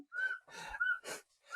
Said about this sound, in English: the baby is blowing a whistle